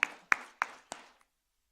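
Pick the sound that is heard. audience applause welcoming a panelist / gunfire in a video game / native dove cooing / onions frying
audience applause welcoming a panelist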